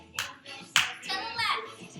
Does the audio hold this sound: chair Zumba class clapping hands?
yes